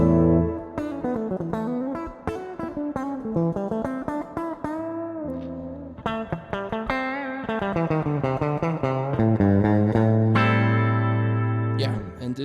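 Fender Stratocaster electric guitar through the bridge pickup, first with the tone knob wide open and then closed, playing a run of clear notes and chords with effects and a sustained ringing chord near the end.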